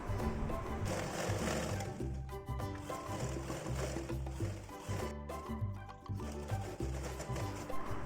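Sewing machine stitching a square neck, its needle mechanism chattering in a rapid, continuous rhythm close by, with only slight pauses and shifts in speed.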